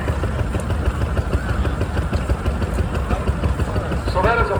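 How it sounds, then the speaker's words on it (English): A 20 horsepower Advanced Rumley antique engine runs at an antique tractor parade at the Rock River Threshery in Edgerton, Wisconsin, a loud steady rumbling chug throughout with a voice talking over it. "So that is a 20 horsepower Advanced Rumley engine built by the Advanced Rumley."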